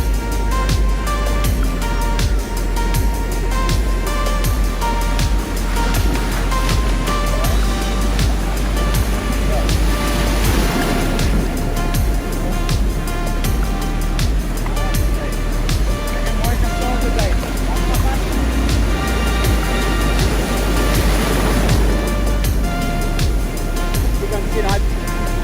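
Ocean surf washes repeatedly over a fish lying at the water's edge, waves swelling and breaking in a steady rolling rhythm, loud and close beneath someone talking, with wind rushing across the microphone.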